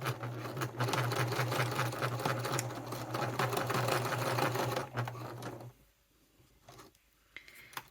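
A sewing machine stitches parallel lines on a leather satchel, a steady close mechanical whir with rapid needle ticking for about six seconds before it stops, followed by a few faint handling sounds.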